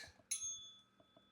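A single bright, tinkling little bell chime rings out and fades, faint, with soft clicks before and after.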